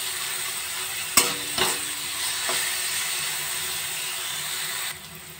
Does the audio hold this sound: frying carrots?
yes